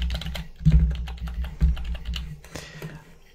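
Quick keystrokes on a computer keyboard while demo credit card details are entered into a course checkout form, heard as an uneven run of close, light clicks with a few heavier taps.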